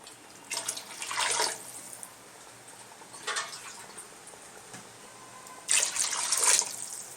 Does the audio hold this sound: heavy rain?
no